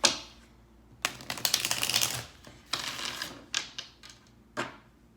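A deck of cards being shuffled, heard as several quick papery riffling bursts with short pauses between them, close and fairly loud, with no talking.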